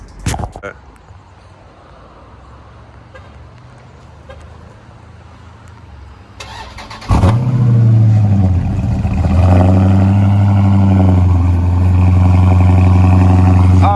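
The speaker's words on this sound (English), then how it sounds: "we're going to hear cold starts from both of these cars" A Dodge SRT 392 muscle car cold start: the engine cranks and catches, then settles into a loud, steady rumbling idle with deep low tones, after a quieter stretch of background noise.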